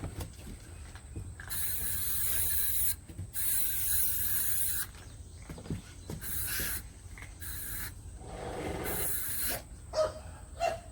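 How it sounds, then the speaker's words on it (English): Several bursts of aerosol spray hissing from a can, each lasting one to two seconds, with short pauses and faint handling noise between. "Spray some off on myself"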